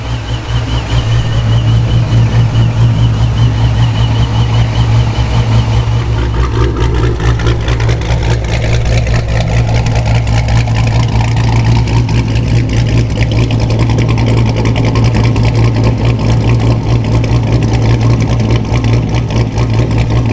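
A car with a 426 engine idling loudly and steadily for about twenty seconds, a deep, constant rumble close to the microphone with no talking over it.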